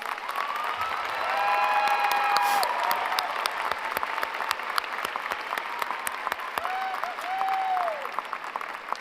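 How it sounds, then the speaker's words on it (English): Sustained applause from a high school graduation audience, steady and dense throughout, with a few faint voices and whistles rising above the clapping. "Please give a round of applause to these honored graduates."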